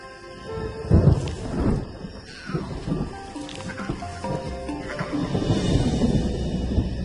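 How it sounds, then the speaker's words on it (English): Thunder rumbles through a night storm on the African savanna where lions rest, a loud low roll and crackling peaks that swell and fade over steady rain hitting the ground. "the rumble of thunder interrupts the lion's reverie"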